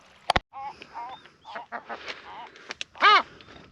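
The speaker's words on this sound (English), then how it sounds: "lot of seagulls." Seabirds calling near a guano-covered island: a run of short, close honking and squawking calls, some sharp and some wavering, with brief gaps between them.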